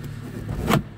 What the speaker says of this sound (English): let's give the hood a whirl and see what it does.